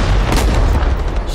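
A loud, close grenade blast in the Vietnam War shooter Rising Storm 2: Vietnam, set in the battle of Hue City, makes a dense, booming roar that fills the whole brief moment with no talking.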